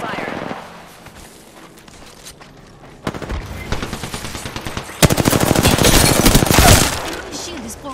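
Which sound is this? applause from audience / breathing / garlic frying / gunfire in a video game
gunfire in a video game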